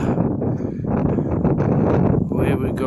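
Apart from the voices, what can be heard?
wind blowing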